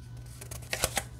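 Tarot deck being unwrapped, a few soft crinkles and crisp taps of cellophane and cardstock close by, quiet and brief.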